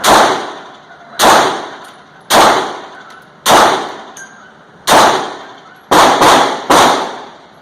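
A gun fires rounds of mixed-case ammunition, seven sharp, loud close reports, spaced about a second apart with the last three coming quicker, each trailing off in a short echo.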